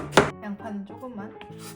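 A knife strikes a cutting board once, sharp and close, while onion is sliced for a home-cooked salmon rice bowl, and someone talks through the rest.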